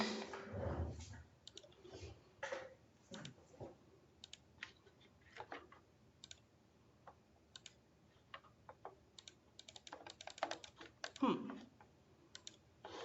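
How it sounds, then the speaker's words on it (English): Quiet, scattered mouse clicks and keyboard taps at a computer while working in a spreadsheet, irregular and close, with occasional soft speech between them. "I just want to click on my spreadsheet here."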